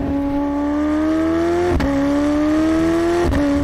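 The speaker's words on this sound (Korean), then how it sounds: "밖에서 들으니까 이 배기음이 상당히 좀 강렬하게 다가오기 때문에" A McLaren supercar's exhaust, heard from outside with the top open, drones steadily at high revs, with two brief sharp breaks in the tone, loud and close, with no talking.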